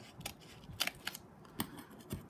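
Scissors snipping excess file folder pieces from the joints of a paper bridge truss, a handful of crisp, irregularly spaced close cuts at low volume.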